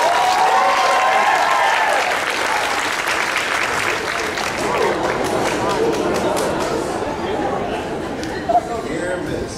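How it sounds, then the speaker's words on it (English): A costume contest audience at an anime convention claps and cheers in a dense, loud burst that slowly thins out, with crowd chatter and a host's voice mixed in. "One more big round of applause for Spring."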